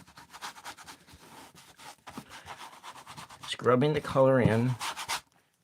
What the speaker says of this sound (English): We're just kind of scrubbing the color in.